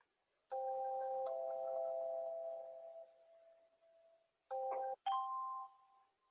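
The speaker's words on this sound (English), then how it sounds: "So once you click on this audio call, you'll get a ringing sound." An audio call on a software platform rings with clear electronic chime tones, a long sustained ring followed by two short chimes, clean and alone.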